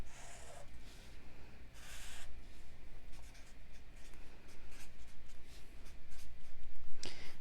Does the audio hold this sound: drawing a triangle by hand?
yes